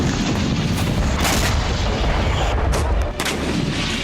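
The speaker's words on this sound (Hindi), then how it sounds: "आसमान से जमीन पर बम बरस रहे हैं।" Bombs and artillery fire in war footage from the Thailand–Cambodia conflict: a continuous barrage of heavy, booming blasts that roll over one another at close range with no pause, loud throughout and with no voices.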